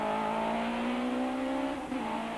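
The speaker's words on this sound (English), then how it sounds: "Hannes pushes the Sentra past its limit and puts the car into an uncontrollable spin." Nissan Sentra rally car on a narrow tar road in the 1993 Tour de Total, engine revving hard at a steady high pitch that dips and shifts near the end as the car spins out, loud and continuous.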